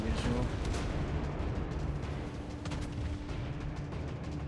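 Warship main guns boom in World of Warships gameplay, heavy blasts near the start and again around the middle over a rumbling battle background, with someone talking over the action.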